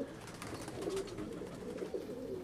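Domestic pigeons kept at a home loft cooing in faint, low, repeated throaty murmurs, quiet and continuous, no voices over them.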